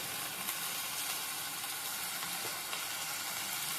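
Prawns and brinjal with salt frying in a pan, a loud, steady hissing sizzle close up with faint occasional taps of the spoon, and no talking.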